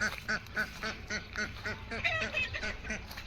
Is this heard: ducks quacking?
yes